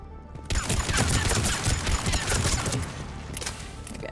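Heavy sustained gunfire from a Mass Effect 3 battle alongside krogan, rapid overlapping bursts of shots rattling close and loud almost without pause after a brief quieter opening.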